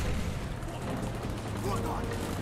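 Rapid gunfire and explosions in the video game Call of Duty: Black Ops, a dense continuous battle din with voices in the mix.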